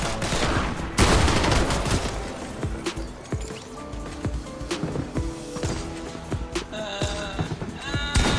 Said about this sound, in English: He shot you! He shot you!